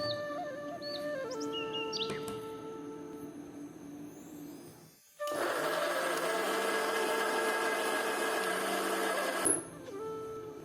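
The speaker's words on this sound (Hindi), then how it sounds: "फिर इसको मैं मिक्सर ग्राइंडर पे डालूँगी।" Kitchen mixer grinder blending onion and green chilli into a paste, a loud steady motor whine running for several seconds after quieter clattering and whirring, then stopping abruptly.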